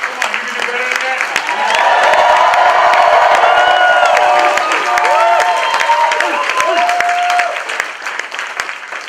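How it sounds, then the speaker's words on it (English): Loud audience applause and cheering for a motivational speaker at a live event, dense clapping with whoops and shouts that swells, holds strong, then eases off near the end. "Give him another round of applause."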